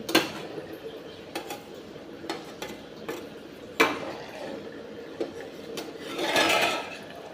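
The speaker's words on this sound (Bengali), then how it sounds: "এবারে আমি ঢাকনাটা একবার খুলছি" A lid comes off a pot of potatoes and tomatoes cooking for aloo posto. Scattered metallic clinks and taps stand over a quiet background, then a brief rush of steamy hiss swells near the end.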